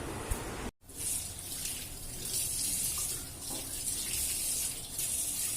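Water runs steadily from a tap while a child's face is washed, a continuous splashing gush that briefly cuts out near the start, then carries on close by without talk.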